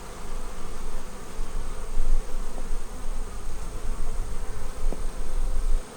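A mass of honeybees hums around a queen bee cage, a loud, continuous buzzing swarm close by that swells and dips slightly throughout, with a couple of faint clicks.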